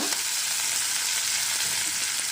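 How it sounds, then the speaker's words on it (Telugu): Onion, green chilli and curry leaves fry in a pan while being stirred, producing a loud, dense, steady sizzle close by with a few faint stirring knocks. "పచ్చిమిర్చి అన్నీ వేసాక ఒకసారి కలుపుతూ ఫ్రై చేసుకుందాం"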